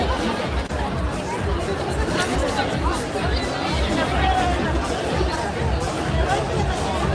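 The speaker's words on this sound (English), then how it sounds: "Do you want to walk through this crazy crowd?" Thick, steady hubbub of a large crowd at the Montreux Jazz Festival in Switzerland, overlapping voices chattering nearby throughout with no pauses.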